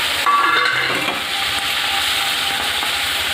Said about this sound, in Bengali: ওই তেলে আমি চিংড়ি মাছগুলো ভেজে নেব